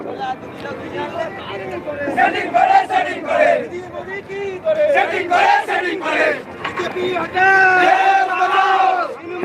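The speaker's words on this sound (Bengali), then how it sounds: "এদিকে কংগ্রেসের একটি মিছিল আসছে।" A Congress political procession carrying flags approaches, a crowd chanting slogans in loud rhythmic unison with shouted calls and answering voices, fairly close and continuous.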